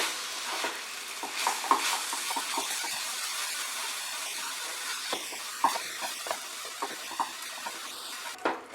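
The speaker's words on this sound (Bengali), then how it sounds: "মাঝারি আঁচে আমি নারকেলটাকে আর গুড়টাকে নেড়ে চলেছি।" Grated coconut and jaggery are stirred in a pan over medium heat for Bengali fried modak filling, giving a soft continuous sizzle broken by repeated scraping strokes of a spoon, close and fairly quiet, with no voices.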